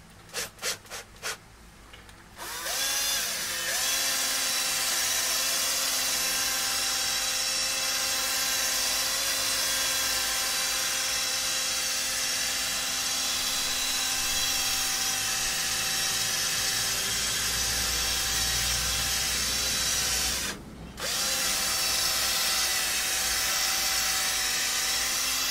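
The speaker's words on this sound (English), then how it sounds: "Polishing her up." A power polisher buffs the sprayed finish on a left-handed Tele-style electric guitar kit body, a steady droning whir that runs loud and continuous for most of the stretch, briefly cutting out near the end before resuming.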